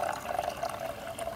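Water pours from a cup into a car's coolant reservoir on a Chevrolet Malibu LS, a soft, steady trickle heard briefly and faintly without talk.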